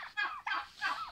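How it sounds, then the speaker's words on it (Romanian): A large white rooster from 2021 calling in several drawn-out, warbling bursts, close and fairly clear, with no voices. "Am aici un cocoș mare de 2021, foarte frumos,"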